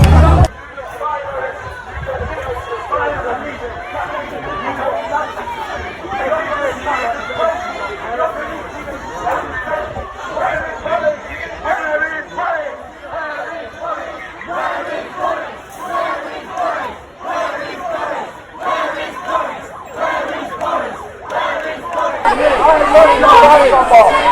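Large crowd of protesters at a Black Lives Matter march near Downing Street, London, with continuous loud chanting, shouting and babble throughout, swelling louder near the end.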